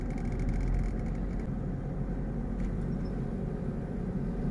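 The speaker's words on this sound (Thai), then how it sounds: "แล้วเราไปกดคันเร่งเนี่ยคุณจะได้ยินเสียงคันเร่งแล้ววูดนะครับ" A car engine being given a little throttle on a city road during a driving lesson, a steady low rumble that swells slightly and holds, close and continuous with no talk.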